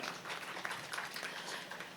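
Scattered applause from a seated audience at a comedy debate stage event, soft and fairly distant, a steady patter of hand claps lasting about two seconds.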